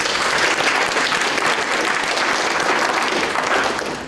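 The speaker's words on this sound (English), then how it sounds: "let's give them a round of applause for these students that are here today" An audience at a KingFest kick-off event gives students a round of applause, with dense and steady clapping that fills the whole stretch. It sounds full and sustained, with no voices over it.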